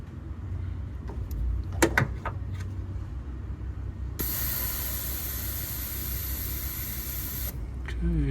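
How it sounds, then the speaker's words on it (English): Air is pushed through the brake lines of a Dodge Dart while the brakes are bled, making a steady hiss that runs about three seconds after some faint knocks and a brief close voice. "it's pushing air through there"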